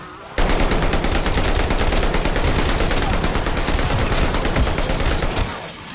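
Sustained rapid automatic gunfire from the Call of Duty Vanguard Zombies game, loud and continuous for about five seconds before tapering off abruptly.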